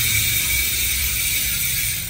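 A Paps Pro 1 V5 bicycle hub freewheels with its ratchet buzzing loudly and close. The rapid clicking blurs into a steady, bright, continuous whir, and no one speaks.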